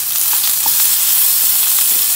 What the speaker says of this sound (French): Les bardes de lard vont continuer à cuire